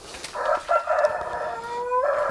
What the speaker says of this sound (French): J'ai un jeune coq qui apprend à chanter. Excusez-le pour la qualité de la prestation.